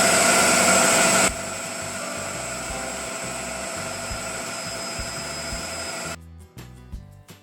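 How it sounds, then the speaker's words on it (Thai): An electric blender grinds chili curry paste, a loud steady whirring motor drone close by that drops to a lower hum and then cuts off near the end. "นี่พริกแกงค่ะเดี๋ยวไปลงมือปั่นกันเลยค่ะ"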